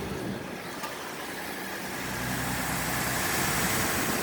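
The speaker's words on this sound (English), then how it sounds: "The engine is running." A 2012 Ford F150 pickup engine idling after being restarted from a fuse fault, a steady close broadband rumble that swells slightly partway through.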